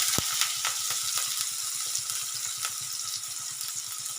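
Chopped onions frying in hot oil with mustard seeds and cumin, a loud continuous sizzle close up with a busy crackle and occasional stirring taps, no speech over it.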